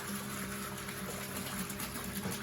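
Running water from a tap rinses black sand and gold concentrate out of a gold-panning pail, a steady close gushing splash with no talk.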